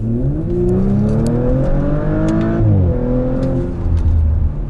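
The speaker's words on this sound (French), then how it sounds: "l'accélération te saute au visage." A 2018 Audi RS5 accelerates hard in dynamic S mode, its engine note climbing steadily in loud, continuous revving with a brief shift partway through, close and dominant with no talking over it.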